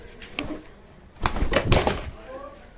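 Racing pigeons in a loft flutter and shuffle with bursts of wing flapping and scuffling, close and moderately loud, with a faint coo near the end.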